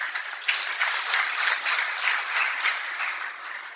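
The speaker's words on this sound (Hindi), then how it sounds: "एक बार जोरदार तालियां बजा दीजिए" Audience at a mushaira poetry gathering applauding, a continuous wash of clapping at moderate, even loudness, slightly distant and heard alone.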